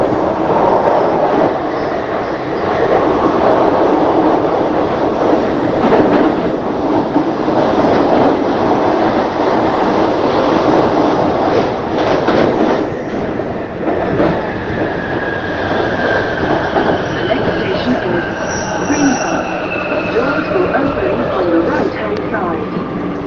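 London Underground train running, a steady loud rumble and rolling roar filling the whole stretch, with a rising whine toward the end and people talking over it.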